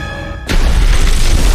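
After a brief quiet hum, a loud, deep film explosion booms and sustains as a heavy rumbling blast until the end.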